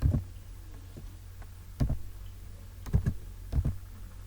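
Scattered keystrokes on a computer keyboard while typing in InPage Urdu sound as sparse light clicks, some singly and some in quick pairs, fairly close over a low steady hum, with no speech.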